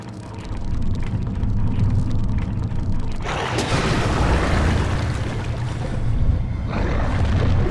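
In Amnesia: The Dark Descent, the water monster thrashes through water in a dark flooded area, a heavy surging splash that erupts suddenly and churns loudly for several seconds over a low rumbling ambience, with no voices.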